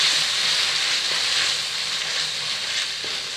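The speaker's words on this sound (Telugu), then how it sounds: "ఇది కొద్దిగా పచ్చి స్మెల్ పోయే వరకు వేయించుకోవాలండి." Onion and fenugreek paste frying in a pan gives a steady, close sizzle and hiss that holds at a constant loud level throughout, with no voices.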